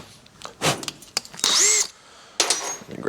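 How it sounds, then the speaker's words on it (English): A power drill with a cheap Harbor Freight bit bores through fender frame mount brackets for an XLCH chopper, giving several loud whining bursts of varying length with short pauses between, close to the microphone. "Come on, Harbor Freight crappy drill bit."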